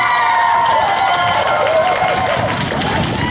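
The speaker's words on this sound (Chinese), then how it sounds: "再给我们黄老师一个热情的掌声加尖叫声" An audience at an outdoor wind-band carnival concert applauds and screams for a teacher on stage, sustained clapping and cheering with a lingering musical tone and voices blended in the crowd noise.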